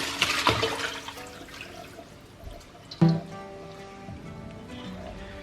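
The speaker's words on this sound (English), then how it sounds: "So I'm just gonna pour the stock into here." Chicken stock poured through a strainer into a large bowl in a home kitchen, heard as splashing, gurgling liquid with a sharp clatter midway and a steady trickle after.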